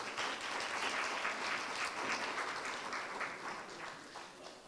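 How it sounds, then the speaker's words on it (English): Sustained applause from an audience at a school board district candidate forum, steady dense clapping throughout without pause, fairly loud and filling the room. "Let's give them a big round of applause."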